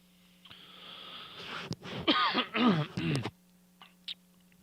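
A person coughs and clears their throat in a quick cluster of raspy, close-up bursts, followed by a faint click.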